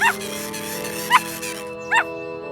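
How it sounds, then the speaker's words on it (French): A small cartoon dog gives three brief high yaps spread across the clip, heard over continuous background music. "Quelqu'un aboie."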